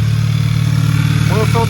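An Audi's engine idles steadily after an oil change, a low, even rumble that runs throughout at close range, with brief talk near the end.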